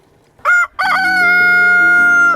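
Rooster crowing among chickens on an organic poultry farm in the Dordogne, a loud, close, drawn-out cock-a-doodle-doo that breaks briefly and then holds a long sustained call.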